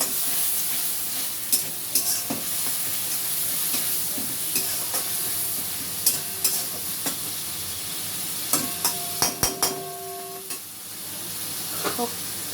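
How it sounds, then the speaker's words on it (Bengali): Ground spice masala fries in oil in a pan, giving a low steady sizzle broken by scattered sharp scrapes and clinks of stirring, some in quick bursts, heard close and fairly quiet. "যতক্ষণ না তেল ছাড়ছে ততক্ষণ কষিয়ে নেব।"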